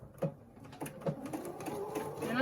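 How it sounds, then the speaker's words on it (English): A sewing machine stitches fabric for a scrappy quilt pumpkin block with quarter-inch seams, a close, soft rhythmic whir of needle strokes that rises slightly at the end. "And we will sew this to our pumpkin."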